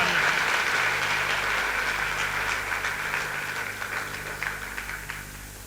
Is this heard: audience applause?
yes